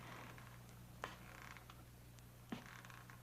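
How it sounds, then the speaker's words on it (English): Old house creaking in a suspense radio drama: two sharp, brief creaks about one and a half seconds apart, faint over a steady low hum and dim room noise. "or was it just the creaking of the old house?"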